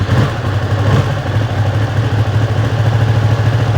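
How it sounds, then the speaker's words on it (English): A Ducati Streetfighter V2 motorcycle engine idles close by, a steady deep throbbing rumble with clattering mechanical texture, running alone without voices. "Standard Ducati sound,"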